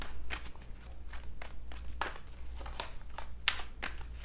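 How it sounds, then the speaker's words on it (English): Tarot cards shuffled by hand in a few quick riffling bursts, crisp papery crinkles repeating close up over a low steady background hum, with no talking. "Let me just give these a quick few shuffles."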